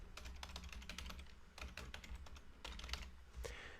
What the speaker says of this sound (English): And I'll type that in.